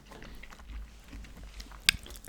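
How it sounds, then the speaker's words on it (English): Chewing gum close to the mouth makes soft, moist smacking and squishy clicks in an irregular rhythm, quiet and intimate, with one sharper click standing out. "I was already chewing gum"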